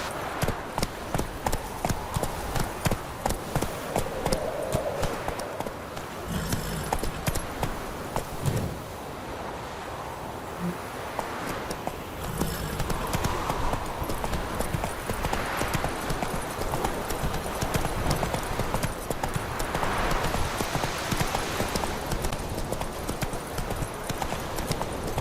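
Roach, Geralt's horse in The Witcher 3, gallops with steady, rapid clip-clop hoofbeats throughout, a soft whinny and faint wind breathing underneath, continuous and fairly close.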